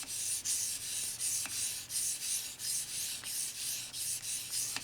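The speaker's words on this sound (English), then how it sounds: "trying to reduce that burr as much as possible. Light, short strokes." Light, short knife sharpening strokes on an EdgePro Apex sharpener, made to reduce a burr: a steady series of close, soft rasping rubs in a regular rhythm, with no voice.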